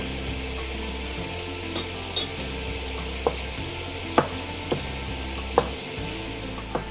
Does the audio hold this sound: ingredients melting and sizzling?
yes